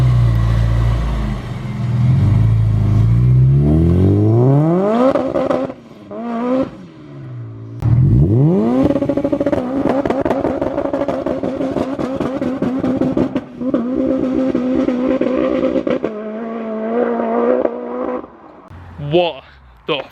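A supercharged 415bhp Honda Civic Type R engine revs hard, its pitch sweeping upward in repeated climbs before holding a loud, sustained high-rev note, close and powerful.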